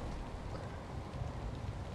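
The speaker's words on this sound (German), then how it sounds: "Da hört man ja gar nichts bei dem Regen." Rain falling in the zombie survival game ZOMBI, a soft continuous patter and hiss of steady rainfall, faint and even with no other sounds.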